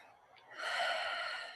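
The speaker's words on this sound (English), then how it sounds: "let's all take a couple of deep, deep breaths, breathing in through the nose and breathing out through the mouth" Breathing led during a talk at a women's summit: after a quiet moment, one long, steady audible breath rises and holds, soft and close, with no talk over it.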